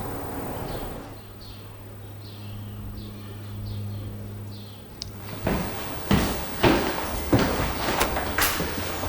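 A solid pocket door slides along its track in a house, a low rolling rumble over a faint hum followed by a series of close knocks and thuds as it moves and settles.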